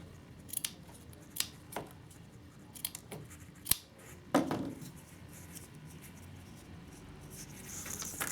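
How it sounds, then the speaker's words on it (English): Scissors snip silk bracelet strands just above their knots: a handful of crisp, isolated cuts spaced a second or so apart, close and quiet in an otherwise still room. "you're going to trim them just above the knots"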